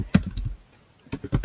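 Quick clusters of crisp key presses on a computer keyboard while a title is typed, two short bursts separated by a pause, close and clear with no talking.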